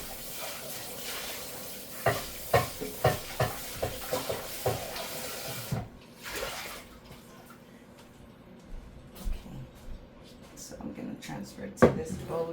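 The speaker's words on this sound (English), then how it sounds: "Transfer it to this bowl right here, just so I can mix it better" Seafood pasta salad being stirred and tossed in a big bowl, with a run of close, regular scraping and clacking strokes early on, then quieter, scattered mixing noises under occasional talk.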